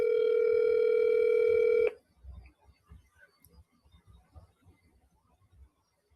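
A steady telephone dial tone sounds for about two seconds while placing a call, then cuts off, leaving faint quiet clicks and low background noise.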